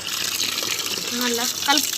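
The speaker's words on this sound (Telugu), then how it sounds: "ఇప్పుడు ఇంకొన్ని వాటర్ అయితే యాడ్ చేసుకోవాలి" Water pours and gushes into a mixing pot in a short continuous stream while a person talks over it.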